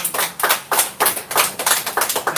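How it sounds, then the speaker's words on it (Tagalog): Scattered, uneven hand claps from a small church audience, about a dozen quick slaps over two seconds, close and fairly loud without voices. "Kaya palakpak ninyo parang kandilang nauupos."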